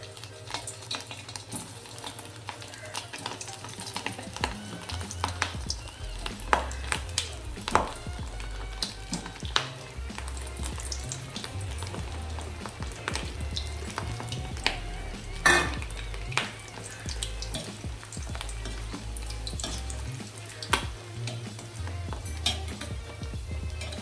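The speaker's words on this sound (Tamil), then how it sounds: "இப்போ எண்ணெயில் இந்த பால்ஸை போட்டுடலாம்" Mutton kola urundai mince balls sizzle and crackle steadily in hot oil for the whole stretch, with occasional clinks of a utensil and pan over a low background hum.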